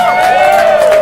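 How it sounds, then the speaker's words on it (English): A large crowd cheers at the 19th Annual UFO Festival in McMinnville, Oregon, a loud, close burst of whoops and voices with a thin hint of clapping, brief and steady. "Such a great crowd"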